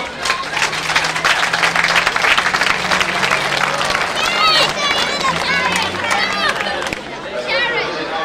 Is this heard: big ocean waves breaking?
no